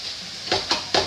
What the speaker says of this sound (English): I just want to mash up the potatoes a little bit so that they'll fit in the taco shell